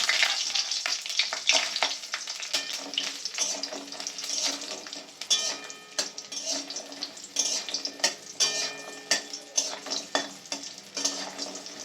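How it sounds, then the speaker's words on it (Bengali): Lentil bori frying in hot mustard oil in a pan, a busy crackling sizzle with frequent sharp spits and pops and some stirring, fairly quiet and close, with no talking. "গরম হয়ে গেছে বড়িগুলো আমি ভেজে নেব"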